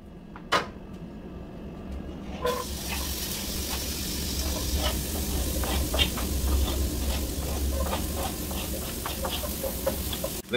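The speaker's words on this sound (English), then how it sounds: "So now I'm gonna go ahead and saute this" Peppers and onion sautéing in a pan, a steady sizzling hiss that starts abruptly and continues with scattered crackles and pops, close and alone.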